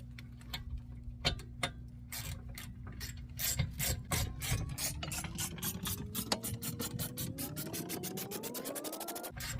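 Ratchet wrench clicking steadily while tightening a bolt on the rear brakes of a 2019 Subaru Forester, the clicks speeding up and rising in pitch as the bolt draws tight; close and clear, no talking.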